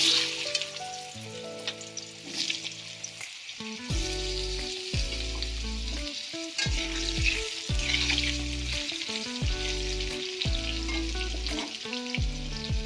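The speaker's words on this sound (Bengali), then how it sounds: "তেলের মধ্যে দিয়ে দেবো আলুটা।" Potatoes frying in hot oil left in the pan after fish was fried, a steady loud crackling sizzle that runs throughout with occasional stirring, no voices.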